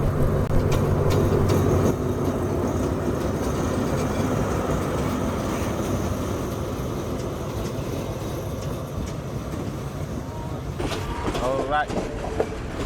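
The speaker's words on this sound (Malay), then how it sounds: "Tren dah sampai." A train pulls into a station on a journey toward the Thailand border, its steady rolling rumble and rail clatter filling the scene up close while a person briefly speaks over it.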